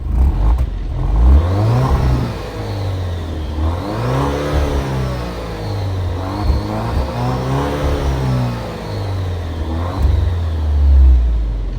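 A 2023 Alfa Romeo Giulia Estrema AWD engine revs repeatedly through its exhausts, loud and close, with rising and falling pitch in a steady series of throttle blips and no talking.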